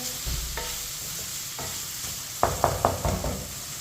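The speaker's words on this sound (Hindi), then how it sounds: "चिकन को मैंने मिक्स कर लिया।" Chicken being mixed in a bowl with white vinegar and sauces gives soft wet stirring, then a quick run of three or four crisp clinks of the spoon against the bowl.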